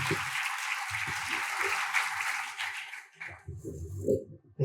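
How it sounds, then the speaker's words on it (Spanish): An audience applauds at a talk on labour law reform, with dense clapping for about three seconds before it thins out, while a voice speaks faintly underneath toward the end. "voy a pedir un fuerte aplauso para Esteban"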